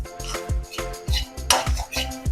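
Semolina roasting in ghee in a pan while a metal spoon stirs it, giving rhythmic scraping and clinking strokes against the pan, close and regular, about two per second.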